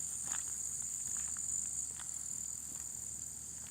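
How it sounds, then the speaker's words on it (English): Crickets chirp outdoors in a continuous high, faint trill on a quiet day, with a few soft rustles and taps underneath and no talking. "Those are crickets."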